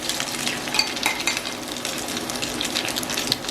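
Curried fish and egg nuggets fry in a pan with a steady, dense sizzle and crackle, heard close and continuous with a few faint utensil clicks and no talking.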